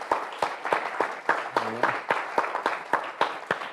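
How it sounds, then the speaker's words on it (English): Scattered applause for a support team at a gameplay and healthcare event, with sparse, distinct claps from a modest crowd in a fairly regular beat and a brief voice partway through. "A big round of applause, too, please, for the support team that have made this possible."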